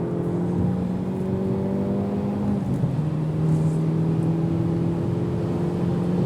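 A 2023 Hyundai Elantra N engine revs on a race track, a sustained droning tone that climbs in pitch, drops sharply at a shift and rises again, heard from inside the car.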